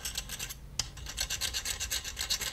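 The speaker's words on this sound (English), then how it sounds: "just keep scraping." A probe scrapes gallium across an aluminum metal surface in quick repeated rasping strokes, close and fairly quiet, with a brief pause and a small tap partway through.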